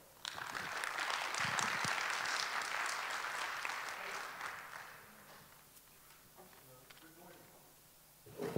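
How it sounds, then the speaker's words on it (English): A conference audience at the Zero Project conference claps for several seconds, loud and sustained at first, then the applause thins and fades out. "So please, a big round of applause."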